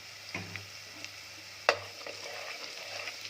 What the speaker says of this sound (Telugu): నేను ఆయిల్లోనే పసుపు వేస్తాను. అది ముక్కలకి బాగా పట్టిద్ది ఆయిల్లో ఫ్రై అయిపోయి.